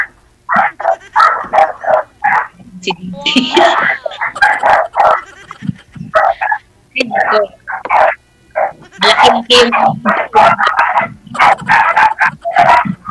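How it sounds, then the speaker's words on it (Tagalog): Repeated loud dog barks come in quick bursts throughout, with a rooster-like call mixed in and people talking briefly amid the noise. "Aso po ba yung tumatahol?"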